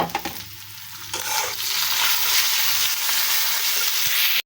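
Onions browning in a pan with ginger and garlic paste, a dense close sizzle with stirring scrapes that swells after the first second and holds steady.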